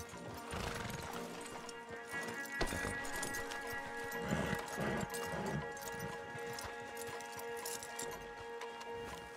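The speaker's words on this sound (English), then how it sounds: "Marshal, you're gonna tether him up to Javier's horse." Horses in Red Dead Redemption 2 clop along at a walking pace with repeated hoof beats, and a horse whinnies partway through over a busy outdoor background.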